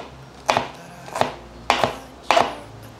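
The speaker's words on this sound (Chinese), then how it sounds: "换一个方向来切碎，我切大丁一点，这样子比较可以凸显出红色。" A knife cuts red bell pepper into large dice on a board: four distinct, crisp chops, evenly spaced and close by, with quiet pauses between them.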